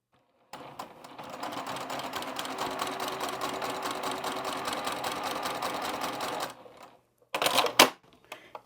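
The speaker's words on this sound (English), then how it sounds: "I'll just cut my thread, lift it up and turn it around and sew along the other side" A sewing machine stitching fabric scraps runs in a steady fast rattle for about six seconds, stops, then gives a short second burst of stitching, close and clear.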